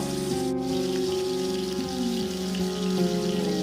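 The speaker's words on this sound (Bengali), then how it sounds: "তেলটা ভালো মতো গরম হলে আমি ওর মধ্যে একে একে নুন হলুদ মাখানো আমুদি মাছগুলোকে ছেড়ে দেব।" Amudi fish coated in salt and turmeric frying in hot mustard oil gives a steady, dense crackling sizzle, like rain on a surface, with a low tonal hum running underneath.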